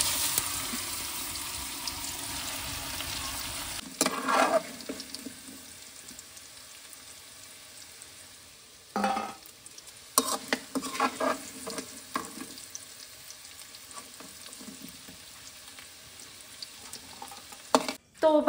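Boiled raw banana fries in a hot pan with a steady sizzle, broken by repeated bursts of scraping and stirring, with no talking.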